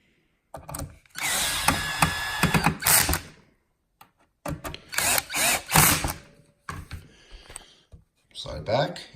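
A power drill drives two small screws into a TLR starter box, whirring close by in three short, loud bursts separated by brief pauses.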